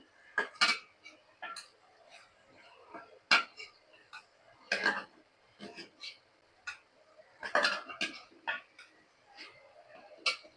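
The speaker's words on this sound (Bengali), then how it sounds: "মাছগুলো বাটিতে তুলে নিই।" Cooked snakehead fish lifted from a pan into a bowl, with a series of sharp, irregular metallic clinks and taps of utensil against pan and bowl, close and clear over a quiet background.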